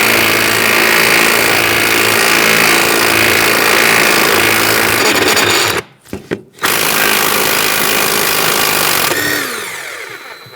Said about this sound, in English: we're going to take out this top bolt